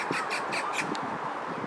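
A small bird squawks in a Seoul nail salon, a quick series of four or five bright, scratchy chirps close by, followed by quieter rustling room noise.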